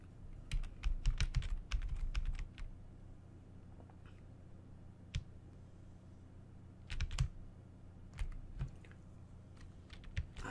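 Computer keyboard keys pressed in bursts of quick clicks while playing Donkey Kong Reloaded on a Spectrum, with clustered flurries separated by quieter pauses, close and fairly faint over a low hum.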